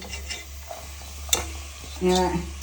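Onions, chillies, turmeric and grated coconut frying in hot coconut oil on a pan, a soft sizzle with a sharp scrape of stirring and a louder burst of sizzling near the end.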